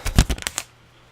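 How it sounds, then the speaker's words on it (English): A sheaf of papers is shuffled and tapped together in a few quick, close rustling bursts lasting about half a second, then falls silent. "Shuffling my papers."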